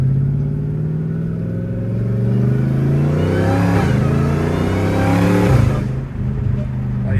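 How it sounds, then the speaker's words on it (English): A supercharged Dodge Hellcat Redeye revs loudly up close, its big engine and exhaust rising and falling in deep, rumbling swells with supercharger whine. "This car, the engine's just too big on this thing, bro. You're gonna hear it no matter what."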